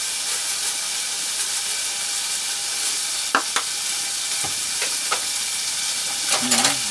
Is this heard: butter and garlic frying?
yes